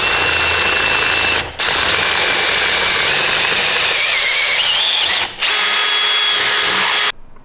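Power drill boring holes through the roof of a Land Rover Defender during a pop-top roof conversion, a loud steady whine running in long bursts with two brief pauses between holes and no talking.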